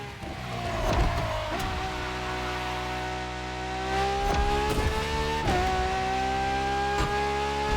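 A Ferrari LaFerrari with an F1-style kinetic energy recovery system accelerating in The Crew Motorfest racing game: a loud, sustained engine whine that climbs in pitch, dips at gear changes and climbs again, with brief clicks and thumps.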